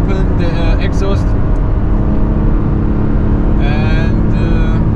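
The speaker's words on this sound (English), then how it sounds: "So let's open the exhaust" A Porsche Cayman GTS 4.0 engine with its exhaust valves open gives a steady, loud, low rumble, with faint whining tones rising in places, while someone talks over it.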